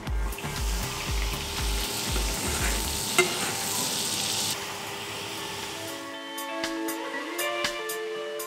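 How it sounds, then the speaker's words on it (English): Fish searing in a pan with butter, a loud steady sizzle with stirring scrapes that thins out after about six seconds into quieter crackling and scattered clinks. "So now I'm gonna cook my fish. We're just gonna do it pan sear with a little bit of butter and lemon juice at the end."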